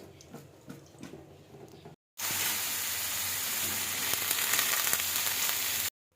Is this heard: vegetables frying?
yes